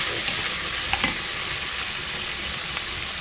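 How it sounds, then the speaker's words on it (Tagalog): Mushrooms and spinach sautéing in a pan, a steady close hiss of frying with a few soft stirring scrapes and light crackles, no voices. "sauté mushroom with spinach"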